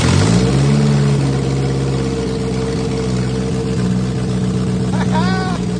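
A Toyota Corolla SR5 4AF engine fitted with a Weber carburetor starts and settles into a loud, steady running note with a sustained low hum. People talk and cheer over it.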